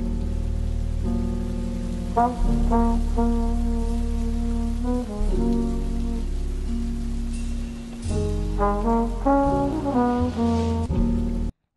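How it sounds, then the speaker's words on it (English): A rain sample layered into a lofi beat, steady broadband patter running the whole way under sustained chords and plucked melodic notes, with a brief spoken aside near the start. "you play the rain sample with the actual sample, it just sounds dope"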